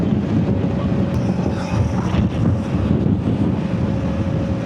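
Steady, loud wind roar buffets the microphone on a moving KTM 890 Adventure motorcycle, a dense rushing noise with no speech.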